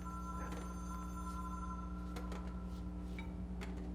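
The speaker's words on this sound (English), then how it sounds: "off we go to answer the telephone" A telephone rings inside the game Control, faint repeated bell bursts over a steady electrical hum, with short ringing pulses spaced irregularly across the moment.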